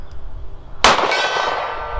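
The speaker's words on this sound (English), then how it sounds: "Can I repeat that on the gong?" A 9mm bullet fired from a Ruger LCR revolver strikes a steel gong with one loud, sharp clang that rings on and slowly fades.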